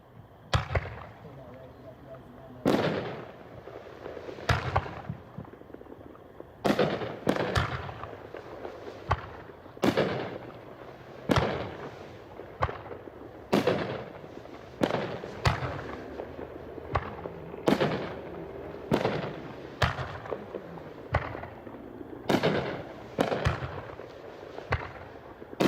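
A Too Hot to Handle 3-inch, 9-shot firework rack with ghost effect fires a long run of loud booming launches and bursts, spaced every second or two, with crackling between blasts at an outdoor demo.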